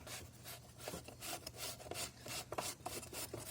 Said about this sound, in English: So you want to loosen that nut.